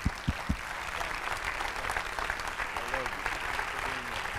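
An audience at an evening leadership talk claps in a steady wash of applause to welcome a guest speaker to the stage, a few sharp claps standing out near the start, with no one speaking over it.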